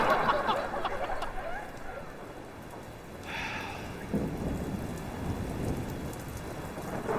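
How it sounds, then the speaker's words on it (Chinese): Heavy rain pouring steadily, with rumbling thunder swelling in the middle and toward the end, loud and continuous with no talking. "这雨越下越大"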